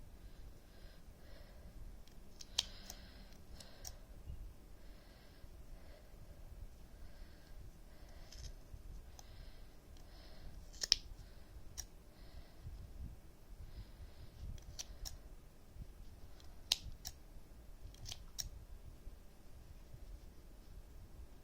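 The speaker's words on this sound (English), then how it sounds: "I'm going to do the same to the rest of them, just cutting all the loops" Scissors snip through the yarn loops of a pom-pom in short, sharp cuts spaced irregularly over a quiet, soft background.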